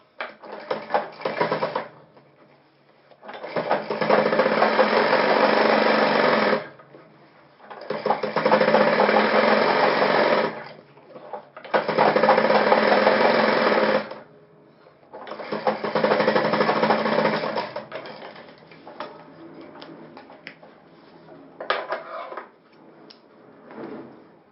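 A sewing machine stitches a shirt collar in four or five bursts of steady whirring, each a few seconds long, separated by short pauses, close and loud with no talking.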